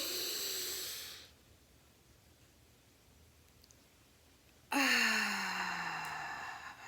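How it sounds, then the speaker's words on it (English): A slow, breathy exhale through a slightly restricted throat during a guided breathing exercise, heard close and faint, fading out after about a second; later a second long, hissing breath begins and slowly tapers off. "Remember to try to restrict in the throat a little bit when you're letting that exhale out."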